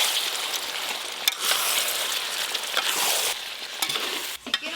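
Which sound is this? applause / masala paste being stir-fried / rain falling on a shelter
masala paste being stir-fried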